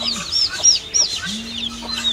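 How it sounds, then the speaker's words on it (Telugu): Turkey hens calling among a small flock with young chicks on a backyard poultry setup, with repeated high, rising yelps and clucks near the listener, plus a low steady hum in the background. "ఇది టర్కీ కోడి అండి. ఇదిగో ఇది వేరే రూపంలో అరుతుంది."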